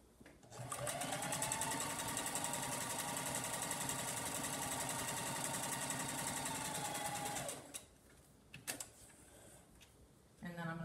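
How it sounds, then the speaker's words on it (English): A sewing machine runs a long steady stitch along a twice-folded cotton fabric edge for a cotton surgical mask, loud and continuous for about seven seconds, then stops, followed by a few faint handling sounds. "I'm going to take it and I'm going to turn under twice the edge and sew."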